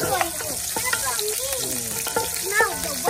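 Curry leaves hit hot oil for a Tamil pork curry, giving a crackling sizzle with quick sputtering pops. A voice can be heard faintly over the frying.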